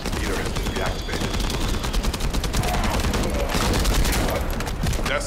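Rapid bursts of gunfire in the video game The First Descendant crackle continuously in a dense battle barrage, loud and close, with scattered pops and booms layered together.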